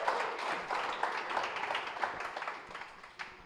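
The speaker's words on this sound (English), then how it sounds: "Give yourselves a round of applause." Applause from a live podcast audience in New Zealand, a dense, steady wash of clapping lasting a few seconds that thins out toward the end, with faint voices mixed in.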